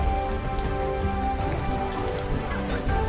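Rain in the video game Primal Planet, a dense steady patter of drops on surfaces, close and continuous with no talk.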